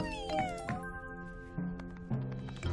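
Cartoon kittens meow in several short, bright calls one after another, some drawn out and rising, with a soft musical backing underneath and no talking.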